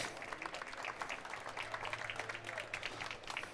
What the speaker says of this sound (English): can we have a round of applause for the production award winners?